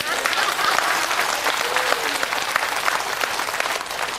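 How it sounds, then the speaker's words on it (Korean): A congregation claps loudly and steadily throughout a revival sermon gathering, a dense sustained round of applause with some voices mixed in. "박수!"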